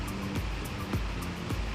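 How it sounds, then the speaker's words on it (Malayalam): Floodwater surges across a submerged road on the route out of Baku, Azerbaijan, during heavy rain, a steady broadband rushing and churning with rhythmic swells breaking through it, close and continuous. "വെള്ളം ഇങ്ങനെ അടിച്ചു കയറിക്കൊണ്ടിരിക്കുകയാണ്."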